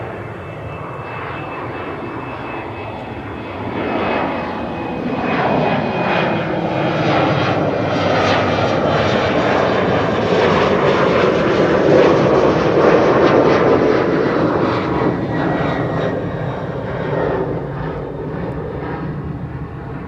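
An airliner in SkyTeam livery departs runway 24 at Amsterdam Schiphol, its jet engines swelling into a loud, sustained roar that peaks mid-pass and then eases slightly as it climbs away, with no talk.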